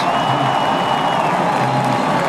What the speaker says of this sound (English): and the crowd roars